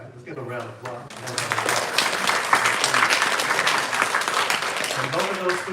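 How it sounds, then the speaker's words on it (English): An audience applauds award-winning student artists at a university library art gallery closing celebration, the clapping swelling in after a brief spoken announcement and continuing steadily, with a voice faintly heard at the start and end. "Let's give them a round of applause."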